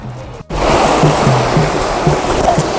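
Sea water washing in along the shore at Gopnath, India, during a Ganesh immersion, a steady broadband surge of waves that starts abruptly after a brief gap and continues loud and close with faint voices underneath.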